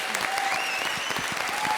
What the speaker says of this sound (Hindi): प्लीज़ सिर्फ उसके लिए भारती और सिद्धार्थ के लिए जोरदार तालियां